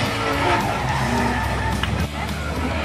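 Drift cars at a drift competition qualification round at ICAR Route 66 in Mirabel, tires skidding in a sustained loud screech over roaring engines during drift initiation, with commentary talking over it.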